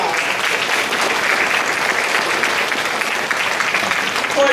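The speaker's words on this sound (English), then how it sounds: "I would just like us all to give him a round of applause." Loud, dense applause from the audience at a middle school honors night banquet, sustained clapping filling the room evenly from start to finish without talk.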